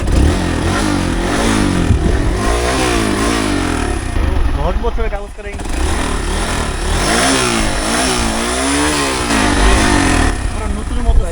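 A motorcycle engine revs and idles at close range, a steady mid-pitched drone with rising surges, while someone talks over it nearly the whole time.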